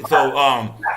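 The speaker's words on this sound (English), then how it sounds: "that was my dog." A dog gives a single sharp, close bark, a short loud bow-wow lasting under a second.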